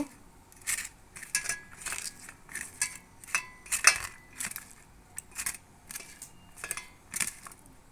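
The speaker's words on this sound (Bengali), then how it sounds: "সব কিছু মশলা ভালো করে মাখিয়ে নেব, হাত দিয়ে চটকে চটকে মেখে নেব" Okra worked by hand with spices for a steamed Bengali dish, giving a run of soft, repeated squishing and crackling bursts at close range, steady in rhythm with no talk.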